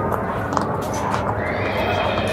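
A restless horse neighs at a livestock market, a loud, drawn-out whinny rising and falling close by over a steady murmur of crowd noise.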